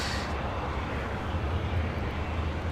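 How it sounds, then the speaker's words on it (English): An Airbus A350 taking off from LAX's south side gives off a steady, fairly distant low engine roar with a broad hiss, holding even throughout without any talk. "we should be seeing the big queue heading down here for a south side takeoff"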